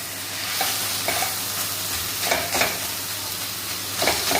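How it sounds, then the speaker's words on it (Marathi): Takla leaf greens being stir-fried in a pan, with a dense, loud sizzle and repeated scraping strokes of a spatula at an uneven rhythm, close up and without voices. "छान परतून घ्यायची आहे।"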